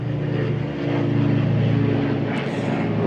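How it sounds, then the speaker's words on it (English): Low-flying propeller plane passing overhead near a small town airport, a loud steady drone with low engine hum that holds throughout and swells slightly mid-pass. "A low-flying plane."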